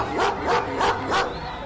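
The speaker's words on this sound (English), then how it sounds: "Instead of the policeman coming, it was a police dog." A police dog barks four times in a steady rhythm, loud and close, with no voices over it.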